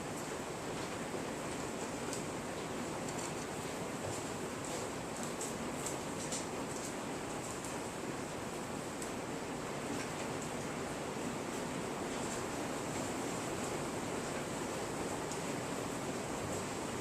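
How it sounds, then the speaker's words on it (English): Heavy rain pouring outside a fiberglassing workshop, a steady wash of noise that stays even and unbroken throughout, moderately loud and alone with no talk. "That noise you hear is rain."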